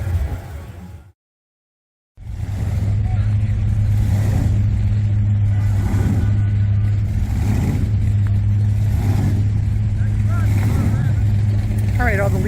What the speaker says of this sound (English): All right, all the lead cars are leaving.